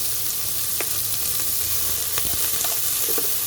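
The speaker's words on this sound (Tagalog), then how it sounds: "Yan, pahaluhin mo na pa-caramelize na natin ng kaunti." Steady, close sizzling and frying from a pan as food is stirred and caramelized for a soup, a dense continuous crackle with occasional soft stirring knocks and no talking.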